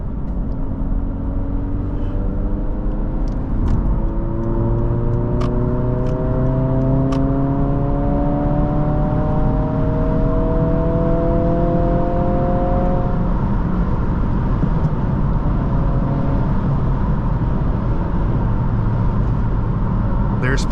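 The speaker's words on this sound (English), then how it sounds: "There's plenty of pull from this engine." A 2023 Honda Civic Si's turbocharged engine pulls hard in sport mode from inside the cabin, rising tones sweeping upward through several gear changes over a steady low road rumble.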